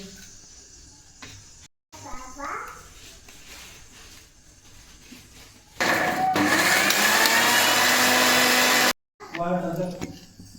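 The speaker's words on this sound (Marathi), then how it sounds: "मिक्सरमध्ये मी छानपैकी ही मिक्सर बारीक करते" An electric mixer grinder whirs loudly for about three seconds as it grinds a cooled masala paste of tomato, ginger, garlic, coriander and onion for chole, with quieter kitchen sounds and brief pauses before and after.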